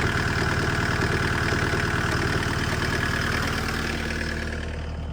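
A 289-D3 skid steer engine running at a steady idle after being cranked, a close, even rhythmic chug with a knocking pulse that softens slightly toward the end.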